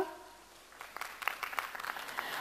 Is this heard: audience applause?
yes